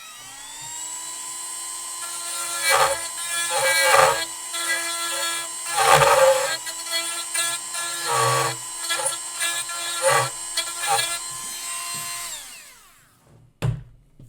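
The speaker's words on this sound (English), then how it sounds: "I'm going to cut a little notch out with this little Dremel tool right here" A high-pitched Dremel rotary tool whines steadily, rising in bursts as it cuts a small notch, then winds down near the end with a few clunks.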